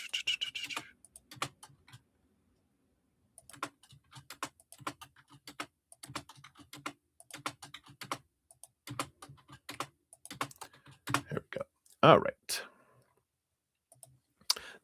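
Bursts of rapid computer keyboard typing and mouse clicking, close and fairly quiet, coming in irregular runs with a sharper loud click cluster near the end, while a voice speaks briefly at the start and later.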